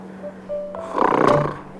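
A man snores while sleeping, one rough rattling breath swelling and fading over a faint steady hum, close and moderately loud, with no speech.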